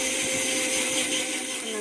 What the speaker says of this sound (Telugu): బనానా మిక్సీ పట్టేసింది